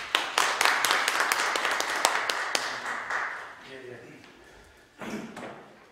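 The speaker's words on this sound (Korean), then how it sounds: "박수 한번 드려드립니다." Audience at a charity organization's MOU signing ceremony with church denomination leaders gives scattered, fairly crisp applause, individual claps audible rather than a dense roar, tapering off before a voice resumes.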